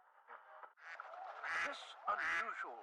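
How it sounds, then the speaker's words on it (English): A duck quacks several times in quick, nasal bursts that rise and fall over a few seconds, fairly close and alone, with a faint broadcast-like quality. "That's a duck."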